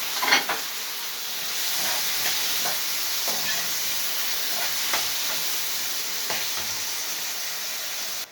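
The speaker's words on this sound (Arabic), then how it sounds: "نسيب بقى الطماطم كده على نار عالية، يعني مجرد 5 دقايق لحد بس ما الطماطم تبدأ كده تدوب وتنزل المية اللي جواها" Tomatoes with peppers, garlic and onion frying in a pan over high heat, a steady bright sizzle and hiss with scattered crackles and occasional stirring scrapes, close and alone without talk.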